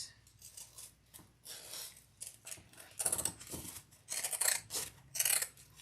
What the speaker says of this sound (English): let's pink shear all this